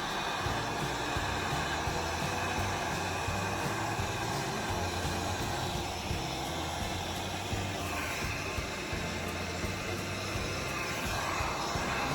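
A heat gun blows hot air over a flower resin tray, making a continuous, close, breathy roar with a low motor hum underneath, steady throughout and without speech.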